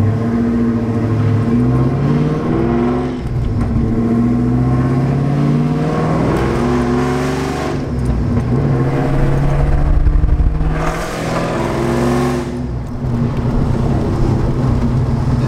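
A Ford Mustang SN95 drives and revs, the engine note climbing and falling through several loud, close accelerations with a steady road roar underneath.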